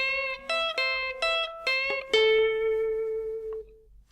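Lead guitar playing a slow solo line: a few clean, separate plucked notes, then a last note bent upward that rings on alone and fades out.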